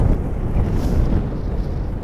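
Heavy, steady wind roaring and buffeting the microphone on the Blackpool seafront, a dense low rumble with no voices.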